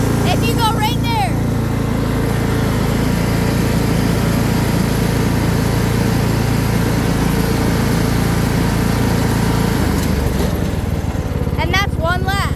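A Troy-Bilt riding lawn mower engine runs loud and steady at close range while driving a lap, with the throttle pushed a little higher. The drone is continuous, and someone talks over it at the start and the end.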